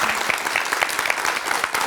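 A brief burst of steady, close applause from a television studio audience, with many hands clapping densely and evenly throughout.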